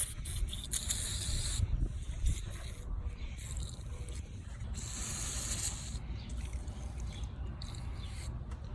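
PB Blaster penetrating oil sprayed onto the O2 sensors of a Dodge Challenger R/T during a long-tube header install, heard as steady hissing aerosol bursts with short gaps, fairly close.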